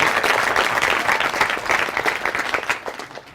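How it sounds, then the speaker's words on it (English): A dense, steady wave of audience applause at an AIPP gathering greets the Victorian President, loud and continuous before easing slightly toward the end. "great applause for the President"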